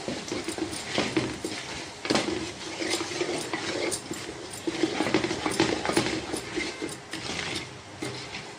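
Turmeric, coriander and pepper powders stirred for lemon pickle in a hot pan with the flame off, repeated scraping and clinking of a spoon against the pan, close and moderately loud in an irregular rhythm.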